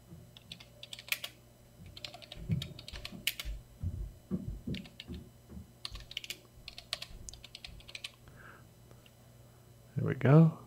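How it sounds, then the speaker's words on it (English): Bursts of rapid key clicks from a computer keyboard, entering text in Inkscape, come in uneven clusters at close range, with a louder knock near the end. "So you can go like this and start typing out some stuff."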